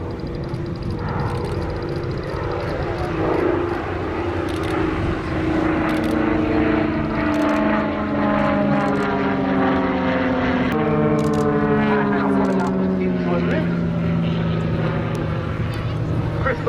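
Two aerobatic propeller aircraft flying a formation display at an airshow, their engines droning loudly and continuously with pitch shifting as they climb and roll, under an announcer's commentary.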